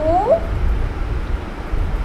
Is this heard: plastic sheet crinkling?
no